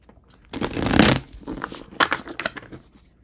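Tarot cards being shuffled up close, a dense riffling burst followed by a few softer, quicker card flutters.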